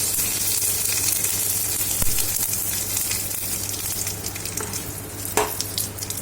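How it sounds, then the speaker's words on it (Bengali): Black mustard seeds and curry leaves crackle and sizzle in hot refined oil for a Kerala beetroot pachadi, a steady, close, loud fry with a sharper pop near the middle and another toward the end. "তেলটা গরম হলে এর মধ্যে এবারে দিয়ে দেবো কালো সর্ষে, তার মধ্যে দিয়ে দেবো কারি পাতা"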